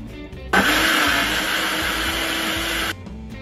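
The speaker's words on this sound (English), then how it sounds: "I will be putting all of my ingredients in a blender to make this pie." A blender whirs steadily for about two and a half seconds, blending soy milk, plant-based butter and sweet potato pie filling, starting and stopping abruptly, loud and close, with no talking.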